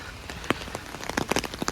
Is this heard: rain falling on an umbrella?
yes